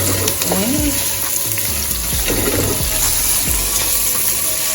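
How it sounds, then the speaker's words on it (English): Vegetables sauté in a frying pan for a Jamaican fish dish, with garlic, ginger and thyme going in. A loud, continuous sizzle carries stirring scrapes, and brief faint voices sound underneath. "Saute the veggies then."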